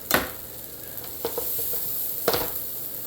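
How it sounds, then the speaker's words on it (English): Chili, ginger and garlic sizzle in hot oil in a pan while a spoon stirs them, giving a steady frying hiss broken by a few sharp scraping strokes, close and fairly loud with no talk. "Give this just a quick stir"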